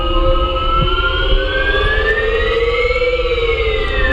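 A Move OS smartwatch plays a virtual engine sound, a loud, steady electronic whine whose tones climb slowly and smoothly, heard alone.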